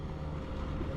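A steady, loud roar of a motorboat engine running at speed, with wind rush and water noise blending into a constant wash.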